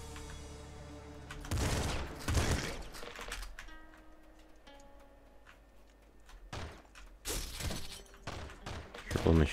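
Machine gun fire in the top-down shooter game Nuclear Throne comes in loud, dense bursts of rapid shots, broken by quieter gaps filled with game sounds and music.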